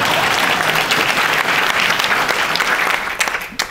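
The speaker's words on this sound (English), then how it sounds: "How about a round of applause for Paul?" A conservancy evening lecture audience gives loud, sustained applause that thins out toward the end, with a few scattered claps trailing off.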